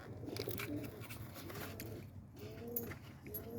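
Racing pigeons in a small loft early on a Sunday morning, cooing softly and repeatedly at close range over a low, steady background.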